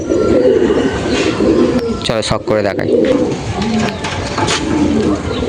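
Domestic Madras pigeons coo in a loft, their low repeated calls running throughout, while someone speaks briefly in the middle.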